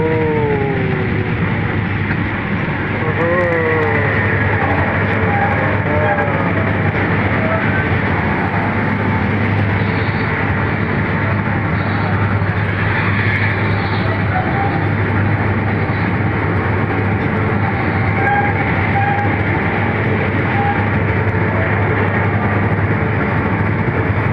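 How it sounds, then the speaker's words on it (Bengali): A train pulling into a station, a steady loud rumble of rolling wagons and engine drone that holds unbroken throughout with no clear voices. "তো এখন কোথায় করে ঢুকছে আমাদের ট্রেন।"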